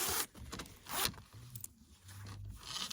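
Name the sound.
zipper on a Carhartt hoodie being unzipped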